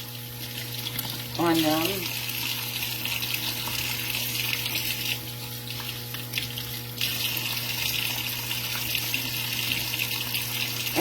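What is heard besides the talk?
rinsing pickling cucumbers under a running sink tap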